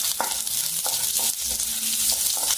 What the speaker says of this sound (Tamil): வெங்காயம் நல்லா வந்து ஃப்ரை ஆகிடும்.